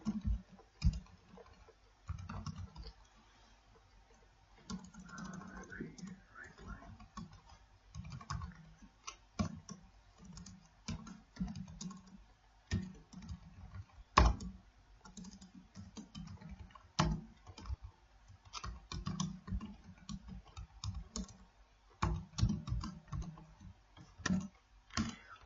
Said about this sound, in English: now I am going to type console dot write